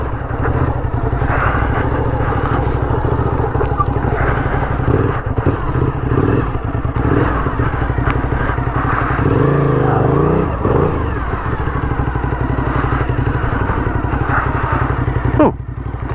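A Yamaha FZR1000 street bike runs on a forest road, its engine droning loud and close with a steady throbbing note, shifting pitch as it revs and labors over rough ground, with gravel clatter mixed in.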